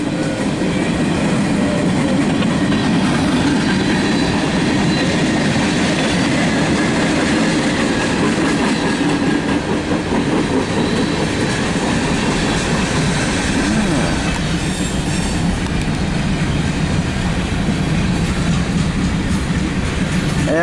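A CSX Q300 mixed freight train rolls past close by, a continuous loud rumble of wagons with rhythmic clickety-clack of wheels over rail joints and occasional wheel squeal.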